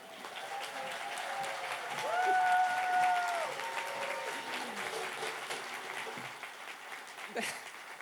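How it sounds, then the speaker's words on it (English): Distant, fairly soft applause for a laboratory director at a Lawrence Livermore National Laboratory ignition celebration, steady clapping with a brief tonal voice or cheer rising midway. "please join me in a mammoth round of applause for our laboratory director, Dr. Kimberly Budell."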